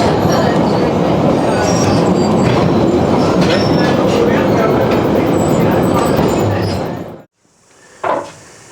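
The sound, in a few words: train carriages reversing, pushed by a locomotive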